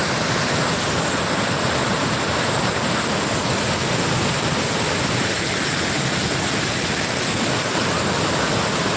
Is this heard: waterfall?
yes